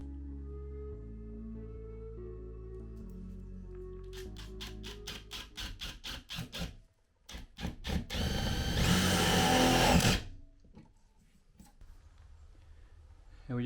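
A power drill driving a screw whirs in short bursts, then runs in a longer loud grinding burst before stopping, with clicking and low humming around it.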